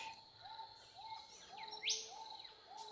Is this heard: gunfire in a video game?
no